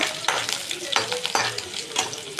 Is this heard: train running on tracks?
no